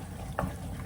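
Onion and garlic sizzle softly in a pan, a continuous close frying hiss with a brief stirring scrape partway through.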